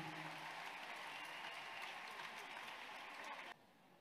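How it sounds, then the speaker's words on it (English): Audience applause rises at a talk, a broad, steady wash of many hands clapping at moderate distance that cuts off abruptly near the end, leaving quieter room noise. "Let somebody clap for the woman."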